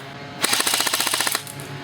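A G&G CM16 Raider airsoft electric rifle fires a fast full-auto burst of about a second, a rapid mechanical rattle of evenly spaced shots, close and clear, starting and stopping abruptly.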